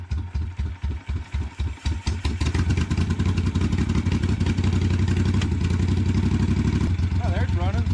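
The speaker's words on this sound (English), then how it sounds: "I think that's the first time it's idled in like 40 years." Vintage Italian motorcycle engine, long neglected, sputters with uneven revs at first, then settles into a steady, loud, close idle; a voice speaks briefly near the end.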